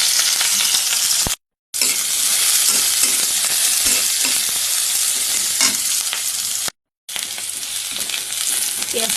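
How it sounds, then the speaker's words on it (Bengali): Sliced onion and green chillies hit hot oil in a wok, giving a loud, continuous sizzle with stirring and spatula scrapes, broken by two short silent gaps. "এখানে কড়াইয়ে তেল দিয়ে দিয়েছি, এখন পেঁয়াজ কাঁচামরিচটা দিয়ে দিচ্ছি।"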